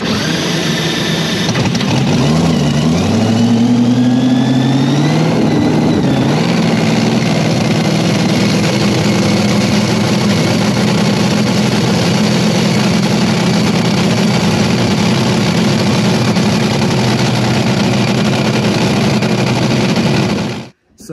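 Top fuel dragster engine being started: a rising whine and sputter, then the engine catches and roars loud and steady for about fifteen seconds before cutting off abruptly.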